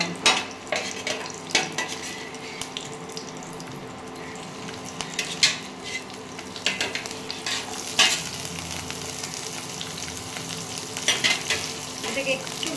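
Capsicum and green chili fry in hot oil in a pan, a continuous sizzle broken by frequent scrapes and clinks of a spatula stirring against the metal, close and without talk.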